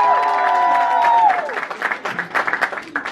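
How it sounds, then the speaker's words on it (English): An audience bursts into applause for a speaker at a celebration event, a dense crowd of clapping that swells and then continues unevenly, with a sustained tone fading out at the start. "Let's give her a round of applause."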